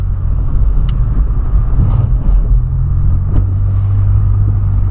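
A Volkswagen Polo engine rumbles loudly and close by, a deep steady drone with slight swells in revving over about five seconds, no voices heard.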